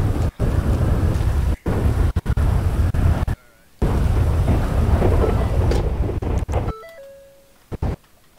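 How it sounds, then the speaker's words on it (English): Heavy thunder rumbling through a rainstorm in the FiveM game, loud and broad with brief cut-outs, ending in a few electronic beeps. "It's thundering."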